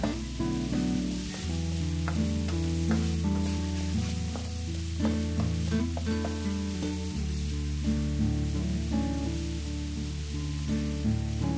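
Spring onions and tomatoes being stir-fried in a pan, with a steady, continuous sizzle throughout.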